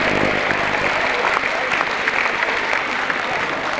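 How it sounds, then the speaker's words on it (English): A crowd at a netball grand final night applauds the competitors, a loud, dense and continuous clapping that holds steady for about four seconds. "A big round of applause for our 4 competitors in Division 1 and Premier Grand Finals."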